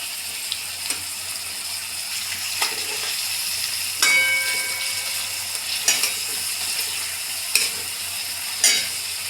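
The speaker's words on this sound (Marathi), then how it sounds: "आता तेल टाकून घेते मी। आता आपण कांदे टाकून घेऊ।" Onions frying in hot oil in a pan, a steady low sizzle with a few sharp clinks and scrapes of a stirring utensil at intervals, close and without talk.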